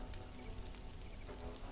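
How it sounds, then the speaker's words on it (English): Steady rain falls in the video game Stranded: Alien Dawn as a constant, dense hiss of drops. It holds even for the whole stretch with no voice over it. "I'm guessing that the rain is doing that"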